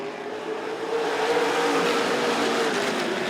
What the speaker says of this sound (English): Green flag, we're racing.